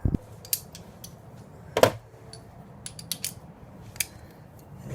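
Ratcheting torque wrench with a couple of extensions and a 17 mm crowfoot tightening front shock mounts on a ZJ: scattered sharp mechanical clicks, with one louder ratchet burst midway, close and quiet with no talk.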